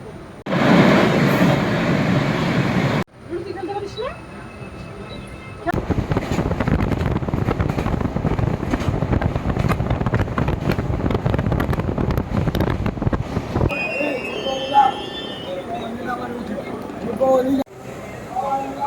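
Riding aboard the Dhauli Express between Balasore and Shalimar, a loud, steady rumble and rattle runs throughout with wind buffeting the microphone, its texture shifting between sections as the train runs.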